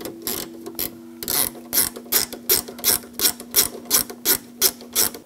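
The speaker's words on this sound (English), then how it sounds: "Now tighten this screw down." Screw being tightened on a door lock actuator for a 1998–2010 Volkswagen Beetle, a ratchet clicking in a steady run of about a dozen sharp, close strokes, with a faint tonal hum underneath.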